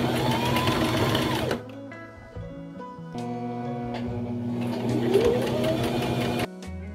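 A sewing machine runs on fabric for a craft project in loud, steady mechanical bursts, pausing briefly and changing pace between stitching runs, close and clear without talk.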